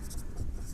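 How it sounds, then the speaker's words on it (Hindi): Chalk or marker writing on a classroom board during a geography lesson, a steady scratchy scraping that runs close and continuous through the short moment with no talk over it. "तो लिखेंगे पहाड़ी या पर्वतीय"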